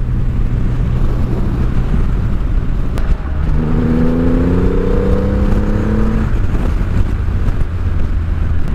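A Rocket motorcycle being ridden: a loud, steady engine drone that climbs in pitch as the bike accelerates partway through, heavily masked by constant wind buffeting on the microphone.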